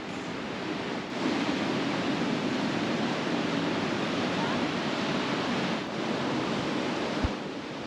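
Sea waves wash against rocks at night, a steady broadband rush of surf with some wind, with no other sounds over it.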